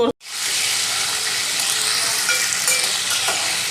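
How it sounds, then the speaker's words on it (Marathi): Crab pieces fry in hot oil in a pan, a loud, continuous sizzle with occasional stirring scrapes that start abruptly and hold steady. "स्वच्छ धुवून झाल्यानंतर फक्त तेलात खेकडी परतावा"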